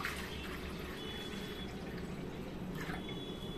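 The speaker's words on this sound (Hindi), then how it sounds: "इसमें डालेंगे पानी, ताकि पानी जब तक हम और तैयारी करें हमारा पानी बॉयल हो जाए" Water pours steadily into a kadai or cooking pot on a home kitchen stove, a continuous faint splashing fill with no speech.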